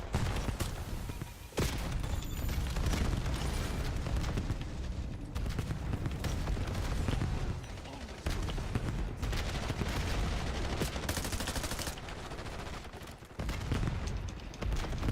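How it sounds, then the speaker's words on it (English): Cluster grenade blasts and rapid gunfire from a Call of Duty Black Ops 7 multiplayer match on Xbox Series X, loud and dense, with sustained bursts, booms and brief lulls throughout. "Cluster grenade out."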